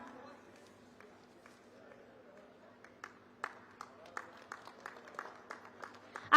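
An audience at a BJP political rally in Himmatnagar begins clapping: scattered, quiet claps grow into a sparse rhythmic patter over a speaking voice, rising sharply at the end.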